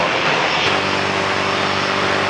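A Singapore Airlines airliner approaching runway 16 right at Sydney Airport, a steady broad jet engine roar that holds constant throughout, moderately loud and without talk.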